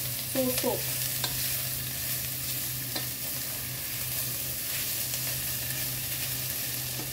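Banana blossom sizzles steadily in a hot pan with anchovies, a continuous frying hiss with a few stirring scrapes near the start.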